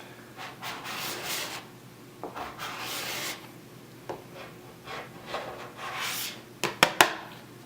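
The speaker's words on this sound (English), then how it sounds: "Make sure you get all the wax off, because that's what's going to make your board function and go fast." A scraper rasps wax off a snowboard base in repeated strokes, close and moderately loud, with a few sharp clicks near the end.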